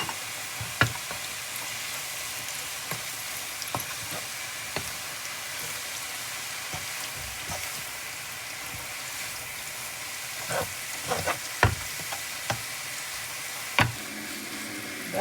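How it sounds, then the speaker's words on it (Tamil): Beetroot frying in a pan gives a steady, close hiss of sizzling oil, broken by scattered sharp scrapes and clicks as it is stirred, with no voices. "எல்லா பீட்ரூட்டையும் கொட்டி கிளறி விடுவோம்."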